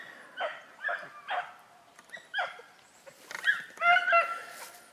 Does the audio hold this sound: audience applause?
no